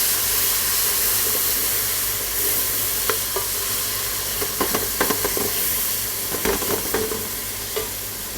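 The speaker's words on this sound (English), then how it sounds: "I'm adding 3 ginger garlic paste." Ginger garlic paste sizzles in a hot pan for a chicken drumstick curry, a constant frying hiss broken by several scraping stirs of the spoon in the middle and toward the end.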